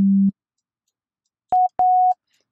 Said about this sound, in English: we just get a sine wave